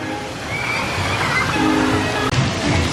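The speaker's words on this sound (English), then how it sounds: "we'll watch this cascade of water come off this thing" Water sloshing and pouring down continuously from a tipping bucket at a theme park kids' water play area at Universal Studios Orlando, steady and fairly loud with a brief dip near the end.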